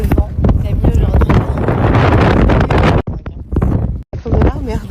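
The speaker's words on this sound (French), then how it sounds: "il y a beaucoup de vent." Strong wind on an outing aboard a boat buffets the microphone with heavy, gusty rumbling, nearly constant and loud, while people talk over it.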